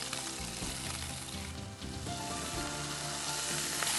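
Vegetables and green chillies frying in a pan for a Chettinad mixed vegetable curry make a dense, continuous, close sizzle with faint stirring.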